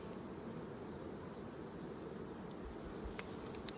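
Honeybees swarm over the frames of an open hive during an inspection, their buzzing a steady, dense drone that stays even and fairly soft throughout, with a few brief higher flickers near the end.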